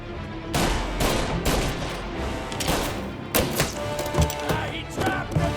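Gunfire crackles through a firefight in Mafia: Definitive Edition, with dense overlapping shots and heavy thuds, loud and close, bursts spread across the whole stretch.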